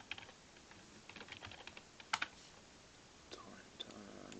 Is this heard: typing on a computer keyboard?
yes